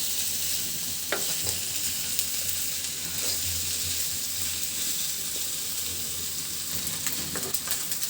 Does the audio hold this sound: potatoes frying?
yes